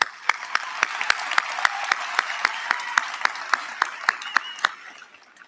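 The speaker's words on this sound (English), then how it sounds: "please join me in a round of applause in thanking our faculty and staff" A commencement ceremony audience applauds in thanks to faculty and staff, with sharp individual claps standing out over a broad wash of clapping that holds steady, then thins and softens near the end.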